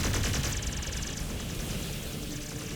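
Mech weapons in MechWarrior 5 Clans fire in a rapid rattling burst, loud and dense at the start and then continuing as sustained crackling gunfire at a slightly lower level, with no voices.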